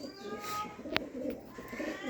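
A Lahori fancy pigeon gives a faint, low cooing murmur close by, interrupted by one sharp, short chirp in a quiet room.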